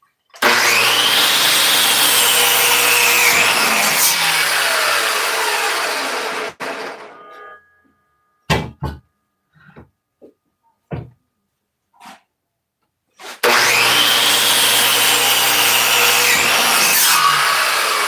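A power saw cuts through wood with a loud, close buzzing rasp, stops for several seconds of scattered clatter and knocks, then starts cutting again.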